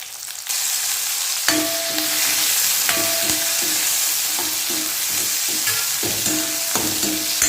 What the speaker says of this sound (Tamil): இப்போ இது கொஞ்சம் நேரம் வதக்கி